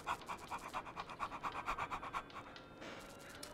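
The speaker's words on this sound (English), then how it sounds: "There you get you got a panting noise from me." A person pants rapidly and breathily right into the microphone, a close, rhythmic series of short huffs that fade out after a few seconds.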